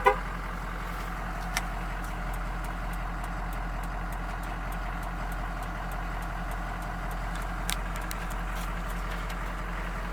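A shop truck engine idles steadily with a low, even drone and a faint mechanical rattle, broken by a couple of small clicks.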